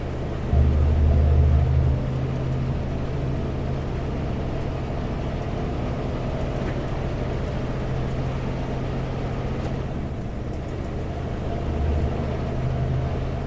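Peterbilt truck in Portland traffic near Fremont Bridge, a steady low diesel rumble and road noise throughout, with a brief deeper surge near the start and no talk.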